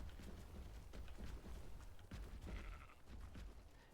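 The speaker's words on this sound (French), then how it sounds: "Un mouton." Sheep bleat faintly in the video game Ark Ascended, short calls over a steady low rumble of ambient game noise.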